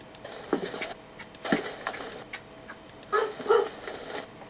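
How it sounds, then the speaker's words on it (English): A dog barks indoors at a moderate distance, several sharp separate barks spaced irregularly, with a couple of louder ones toward the end. "And Sadie's still barking."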